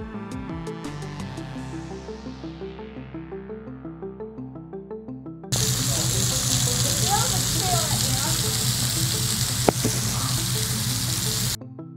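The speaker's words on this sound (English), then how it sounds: "Alright, so we made it to the waterfall." After a stretch of plucked music, a waterfall along the Tail of the Dragon roars in a dense, steady wash of falling water that holds for several seconds, then cuts off.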